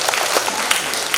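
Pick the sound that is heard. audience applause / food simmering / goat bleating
audience applause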